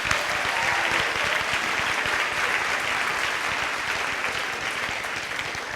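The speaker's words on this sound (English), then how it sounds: "If you give them a round of applause for joining us." Steady, sustained applause from an audience at a high school senior awards ceremony, dense clapping that holds level throughout with no speech over it.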